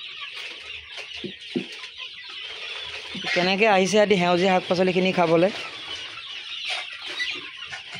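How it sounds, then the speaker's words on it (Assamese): Local free-range chickens cluck nearby, with one long, loud drawn-out call in the middle, while a person speaks. "এখিনি গুটেখিনি লোকেল মুৰ্গী হয়"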